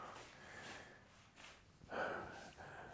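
Heavy, audible breaths after a round of exercise repetitions: a few loud exhalations and gasps in an uneven rhythm, close to the mic, with no talking.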